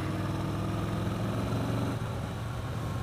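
Steady, continuous engine drone from a 2017 Yamaha SCR 950 motorcycle cruising in top gear at about 43 mph, a constant even hum with road and wind noise and no speech.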